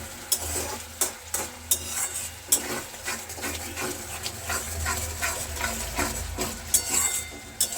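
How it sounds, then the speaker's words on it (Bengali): Spice masala sautéed in a pan for an egg tadka dal, with repeated scraping stir strokes in a steady rhythm over a continuous sizzle, close and clear with no talking. "এবার মশলাটাকে না আমি খুব ভালো করে কষিয়ে নেব।"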